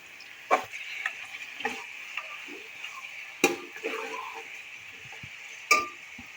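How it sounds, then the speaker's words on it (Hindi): About 1.5 kg of mutton frying in ghee with browned onions, an even sizzle broken by several sharp spoon clacks and stirring scrapes against the pot, close and clear with no talk. "और इसको भूनेंगे, इसी तरह घी में हम फ्राई करेंगे"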